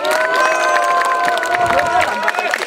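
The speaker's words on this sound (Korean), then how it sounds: "여러분 큰 박수 함께 환성을 주십시오" A crowd at a small outdoor pine-grove concert at a Buddhist temple in Gyeongju on Buddha's Birthday claps and cheers steadily, a loud, dense wash of applause with shouts that holds throughout.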